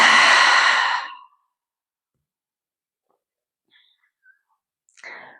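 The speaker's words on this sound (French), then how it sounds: "J'inspire et j'expire." A single long audible exhale during a hatha yoga session, close and breathy for about a second, followed by near silence with a couple of faint soft breath sounds.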